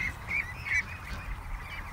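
Farm ducks quack in a few short, nasal bursts close by, with quieter barn background noise between calls.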